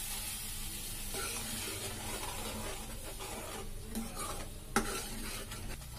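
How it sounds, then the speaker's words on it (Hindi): Tomato puree goes into onion paste frying in a pan for rajma curry, giving a steady close sizzle with soft stirring scrapes and a brief clink near the end. "अब इसमें टमाटर की प्यूरी डालेंगे।"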